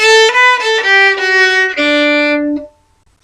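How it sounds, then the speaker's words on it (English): A solo fiddle plays a short phrase of quavers from Patrick's Reel, bright and close, with evenly spaced notes stepping down to a held final note that rings out into silence. "And you've got another little phrase with quavers, which sounds like this."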